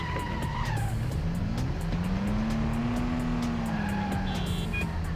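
A car in the PS2 game Stuntman accelerates and pulls a 180-degree handbrake turn, engine whine rising and falling under a loud tire screech, close and continuous with no talking.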